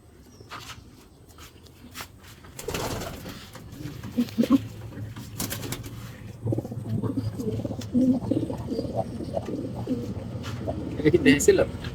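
Racing pigeons cooing in a loft, low repeated throaty coos building up close by, with some quiet talk and shuffling in between.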